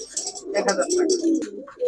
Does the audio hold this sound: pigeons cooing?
yes